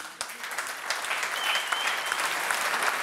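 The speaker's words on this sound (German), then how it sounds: "Applaus" An audience at an economics lecture breaks into applause, which starts with a few scattered claps and quickly swells into dense, sustained clapping that fills the hall.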